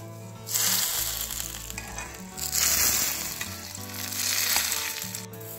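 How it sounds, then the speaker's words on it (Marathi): Curry leaves and mustard seeds hit hot oil for a tadka for sambar, giving a loud, close, crackling sizzle that surges and fades in waves with faint stirring scrapes. "यामध्ये आपल्याला एक तडका घालायचा आहे, कढीपत्ता आणि मोहरीचा"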